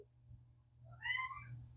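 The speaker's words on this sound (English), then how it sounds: "My kitty's meowing for some reason." A pet cat gives a single faint meow partway through, over a quiet indoor hum.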